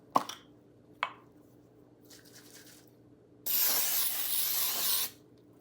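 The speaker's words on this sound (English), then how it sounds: "So we'll spray your pan." A couple of light taps are followed by a short faint spritz, then one strong steady hiss of cooking spray coating a low baking pan, close by, for about a second and a half.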